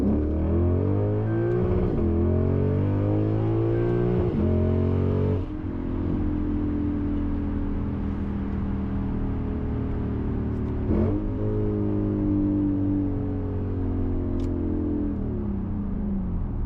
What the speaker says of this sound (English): Just the way this car sounds, it is so pleasing to just mash that pedal.